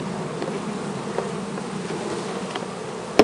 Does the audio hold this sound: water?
no